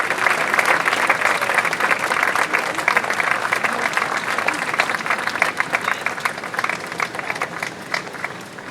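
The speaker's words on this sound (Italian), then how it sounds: "Diamo un grande applauso a Rosa Bosch." A large audience applauds to welcome Rosa Bosch at a talk about Buena Vista Social Club in Pordenone, loud continuous clapping close by and sustained for several seconds, with a faint murmur of voices underneath.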